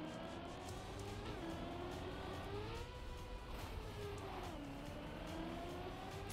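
A car accelerating in the racing game Trackmania, a steady high engine whine that rises and dips in pitch as it revs, continuous and fairly quiet, with no voices.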